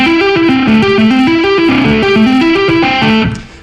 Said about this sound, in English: This next lick is an example of applying string skipping to arpeggios over a chord progression